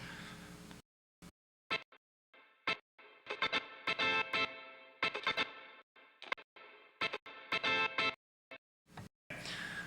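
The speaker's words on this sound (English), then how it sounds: "So let's hear the cut up version of that guitar." Choppy electric guitar heavily processed with distortion and chorus, cut into stuttering bursts with abrupt silences between them, played alone.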